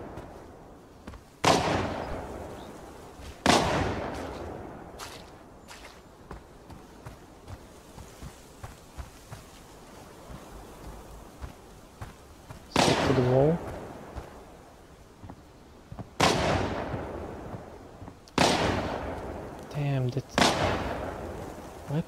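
Gunfire in the mobile shooter Arena Breakout on Android: a few loud, sharp gunshot bursts spaced several seconds apart, with quieter footsteps and game ambience in between.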